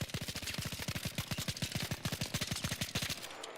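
A gun fitted with a muzzle brake fires a rapid, even burst of about thirty shots in the video game Arc Raiders, each report sharp and close, stopping abruptly near the end.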